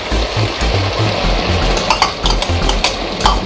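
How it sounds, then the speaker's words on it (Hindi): Chopped capsicum for chilli chicken is stirred and lightly fried in a pan, with a steady soft sizzle under repeated scraping and light clinks of the utensil against the pan, close by. "इसे ज़्यादा पकाना नहीं है, बस थोड़ा सा चलाना है, फिर हल्का सा फ्राई करेंगे"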